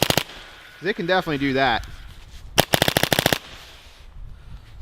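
A paintball marker fires a rapid string of sharp shots over a chronograph, crisp and close, after a short stretch of talking.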